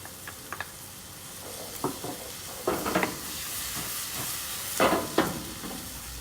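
Garlic drops into a hot pan of char-grilled eggplant and vegetables with a close hissing sizzle, and several louder bursts of spattering and stirring rise and fall over about six seconds.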